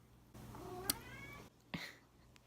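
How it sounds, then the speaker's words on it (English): A pet cat meows indoors, two short, fairly close calls about a second apart, the first a drawn-out rising mew and the second a brief chirp, against a low steady room hum. "He keeps meowing"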